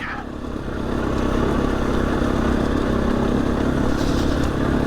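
A motorcycle rides a rough trail near Banbridge, its engine droning steadily and loud throughout with rattling clatter from the bike, rising from a quieter start.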